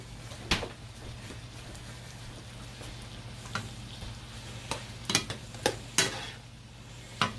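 Garlic and onions frying quietly in a pan while being stirred, with a soft background hiss broken by occasional sharp scrapes and clicks of the utensil, close and faint.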